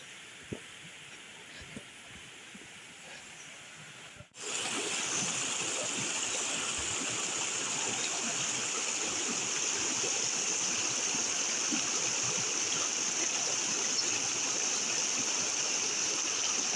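A stream rushes near Stockghyll Force waterfall in January, first faint and distant, then abruptly loud and close as a steady, broad hiss of flowing water fills the scene.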